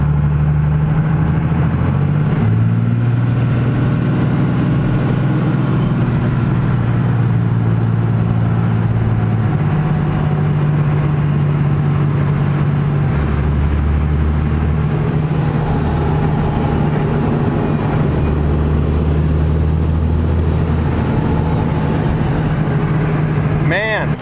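Truck engine running steadily with a plow attached, a loud continuous low rumble whose pitch shifts a few times, with someone talking over it.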